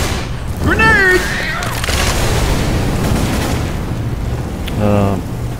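A grenade goes off in Left 4 Dead 2 in a loud booming burst, then a rumbling roar lingers and fades. Game voices and other effects come through around it.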